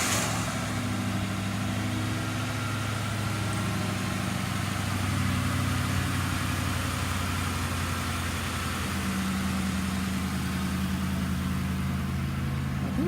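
A Ford Crown Victoria Police Interceptor, fitted with a Viper alarm and remote start, idles steadily with a constant low engine hum and no talking.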